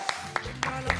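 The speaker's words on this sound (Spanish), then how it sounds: "fuerte el aplauso para holgazana también, que se escuche" Slow, scattered clapping from a comedy show audience on a talk show, four spaced claps over a low background hum, fairly quiet.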